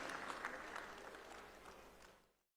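An audience claps through a lamp lighting ceremony at an event in Lucknow, a faint, dense wash of applause that fades out completely after a couple of seconds.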